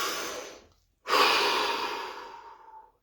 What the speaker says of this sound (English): So take a deep breath.